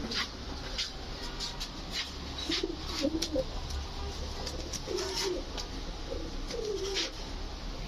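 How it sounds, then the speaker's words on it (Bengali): Green-eyed racing pigeons cooing in a loft, a few short low coos scattered over steady background hiss, with faint higher chirps from other birds, moderately near and without speech. "এই গ্রিন চোখের রেসার কবুতর কিন্তু খুব কম পাওয়া যায়"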